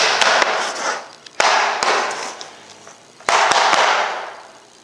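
Diary or notebook rubbed and scraped hard against a floor, with harsh broadband scrubbing strokes interrupted by sharp knocks and taps as it hits the surface, close and loud, no talking.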